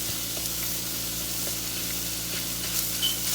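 Ground beef browns in a pan for stuffed cabbage rolls as minced onion and peppers are added, a constant close sizzle with scattered stirring scrapes.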